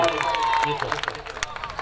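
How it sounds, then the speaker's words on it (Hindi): Audience clapping at a mushaira poetry gathering, a brief scattered round of applause under a voice on a microphone. "आप सबके लिए एक बार तालियां बजा दीजिए भाई साहब"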